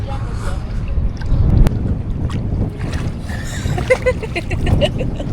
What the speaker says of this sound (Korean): 바람 너무 많이 불고 너무 춥거든요